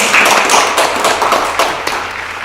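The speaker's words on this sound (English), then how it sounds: "that gets a round of applause, yeah?" Several people clap together at close range for the gift of a new tablet, a dense burst of hand claps that thins out toward the end, with no talking over it.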